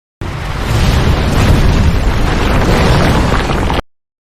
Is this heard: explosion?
yes